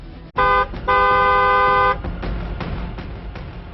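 A car horn honks twice, a short blast then a longer one, loud and close, followed by road traffic noise.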